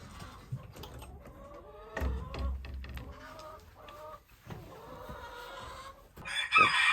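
A rooster crows amid the clucking of chickens, with scattered calls from the flock over a quiet yard background.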